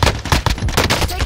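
Rapid bursts of close, loud gunfire in a video game firefight, a string of sharp shots over a second with no pause.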